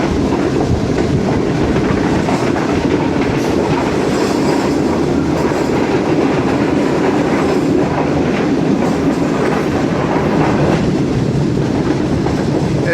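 Pak Business Express passenger train running on the rails near Dhaytha railway station on the Lahore to Karachi main line, a loud steady rumble with rhythmic clickety-clack of wheels over joints, continuous and close.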